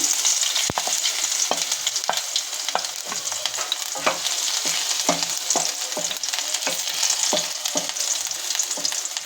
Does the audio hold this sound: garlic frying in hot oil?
yes